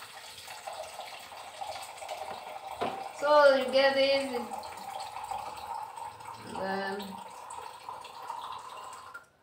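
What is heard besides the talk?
water pouring from a new water dispenser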